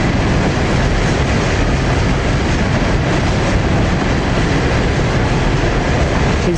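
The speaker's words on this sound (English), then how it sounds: "King's Cross train." A King's Cross train on the East Coast Main Line in Scotland rumbles steadily and loudly, a continuous broadband roar with no breaks and no speech.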